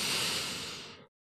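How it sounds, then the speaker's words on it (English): Close, breathy inhalation lasting about a second, a soft airy hiss that fades out into silence. "Let's take a little breath"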